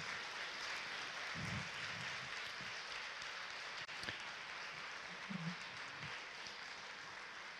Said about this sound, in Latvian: Es jūtu, aplausi nebeidz rimties.